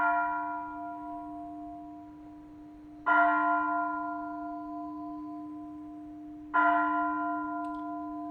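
A Buddhist monastery bell rings, each strike ringing out loud and clear, with two further strikes a few seconds apart and long sustained tones fading between them.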